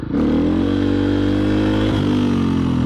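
A 4-stroke dirt bike engine holding a loud, steady drone at close range during a clutch-up wheelie, pitch easing slightly partway through, with no talk over it.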